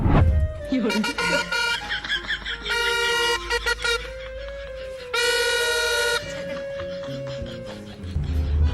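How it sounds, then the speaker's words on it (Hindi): A loud horn rigged from a toy fair trumpet blares in long, buzzy toots with pauses between them, close and strident, with a steady low hum underneath. "इस मासूम से छोटे से बच्चे ने मेले में मिलने वाले भोंपू से इतना खतरनाक हॉर्न बना दिया।"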